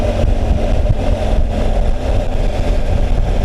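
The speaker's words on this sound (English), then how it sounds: "And we're out on the bike." A motorcycle being ridden gives a loud, steady engine drone with a continuous low rumble, close and even throughout, with no talking.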